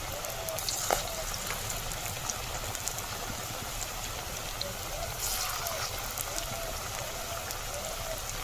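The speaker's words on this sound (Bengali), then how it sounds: "খুবই কম তেলে আর ঘরোয়া পদ্ধতিতে কিন্তু লাউয়ের পকোড়া তৈরি" Bottle gourd pakoras fry in a little oil in a home kitchen in a remote Sundarbans village, a steady close sizzle and crackle under faint background noise.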